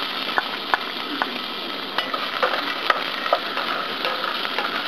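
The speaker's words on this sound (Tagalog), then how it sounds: "Susutuin natin dun sa ating mainit na oil yung ating ginger." Ginger sautéing in hot oil in a pot gives a steady crackling sizzle, with occasional sharp pops and light clicks of stirring.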